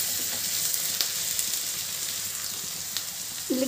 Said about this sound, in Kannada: ಈಗ ಟೊಮೊಟೊ ಹಾಕೋಣ.